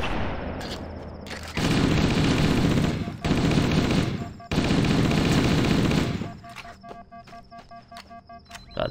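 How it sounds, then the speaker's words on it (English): Gunfire in the Halo: Combat Evolved campaign level The Truth and Reconciliation, with loud sustained bursts of automatic weapon fire broken by short gaps and then fading to quieter scattered sounds and faint clicks. "there's sniper fire going on"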